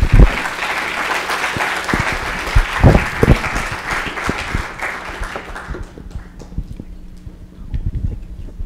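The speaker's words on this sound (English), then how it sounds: "let's give our speakers one more round of applause" Applause from a symposium audience thanking plant science speakers, a dense steady wash of clapping that thins out over the final seconds.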